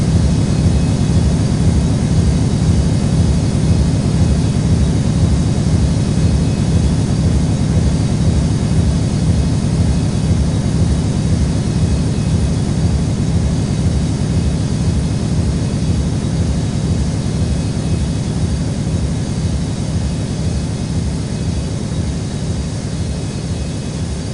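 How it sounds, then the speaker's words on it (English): A heavy cargo jet takes off at Newark airport, its engines giving a loud, steady roar with a low throbbing rumble that fades slowly throughout. "Cleared for takeoff runway 4 left, X cargo 513 heavy"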